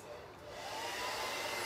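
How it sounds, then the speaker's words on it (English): A blow dryer runs steadily, working wax into aged wood, with a loud, even broadband whoosh that swells slightly and then holds for the whole stretch. "I'm just gonna hit it with the blow dryer for a few minutes because I wanna work into the wax."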